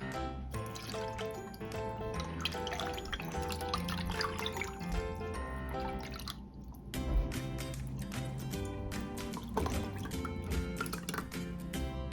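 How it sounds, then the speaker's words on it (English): Hot apple cider from a slow cooker drips and trickles through a strainer to remove the fruit, with steady wet patters and small splashes continuing close by. "strain the cider once again. I want to make sure that I remove as much of the fruit as possible."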